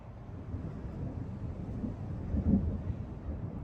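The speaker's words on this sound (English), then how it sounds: "It's a storm." Low rumbling thunder from a summer storm over distant mountains rolls steadily through the whole stretch, swelling slightly near the middle, with no voices.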